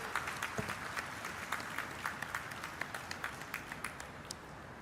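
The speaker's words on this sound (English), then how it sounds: "join me in giving a very big round of applause for our chief dignitaries on" Steady applause from an audience at an LG Electronics groundbreaking ceremony in Sri City, with continuous rhythmic clapping, fairly faint and distant throughout.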